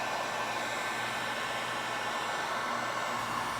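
A heat gun blows a steady, even hiss of hot air onto the crankshaft of a Homelite Super XL922 chainsaw, constant and close throughout with no breaks.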